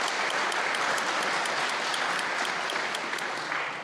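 Steady applause from an audience at the Simcoe North all-candidates debate, a dense patter of clapping hands that holds evenly for about four seconds and fades slightly at the end.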